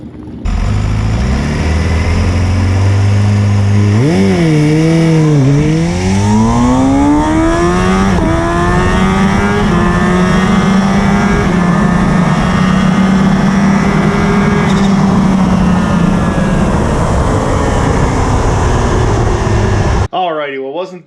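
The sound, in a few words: Kawasaki Ninja H2 SX SE motorcycle racing on track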